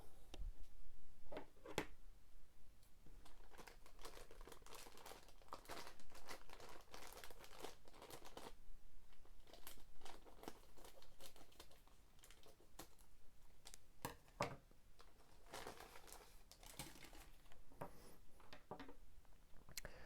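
Plastic bag holding parts of a 1/56 scale M8/M20 armoured car model kit from Italeri and Warlord Games is handled close up, giving continuous crinkling and rustling with sharper crackles throughout and no talking.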